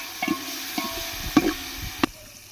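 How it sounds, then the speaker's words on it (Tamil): Ginger garlic paste fries in hot oil for a village-style beef curry, giving a soft, steady sizzle broken by a few sharp scrapes and taps of a stirring spoon against the pan. "இஞ்சி பூண்டு பேஸ்ட் போட்டுக்கலாங்க. அதே எண்ணெயிலே நல்லா வதக்கிக்கலாம்."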